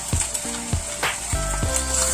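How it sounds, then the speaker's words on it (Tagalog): Steady sizzling of beef burger patties frying in a pan over low heat, with repeated clinks and scrapes of a utensil against the pan. "umpisa na natin i-prito ang ating beef burger steak"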